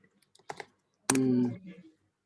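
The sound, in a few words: computer keyboard typing while copy-pasting into chat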